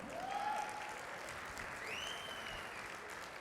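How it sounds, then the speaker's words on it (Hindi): A live audience at a Hindi speech event gives a short burst of applause, steady and moderately loud, with scattered claps filling the hall for a few seconds. "तालियां कमजोर हैं, मैं जान रहा हूं।"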